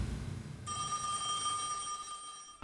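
A telephone rings at a local bank branch, a clear steady electronic ring starting about a third of the way in and holding alone to the end with no talk.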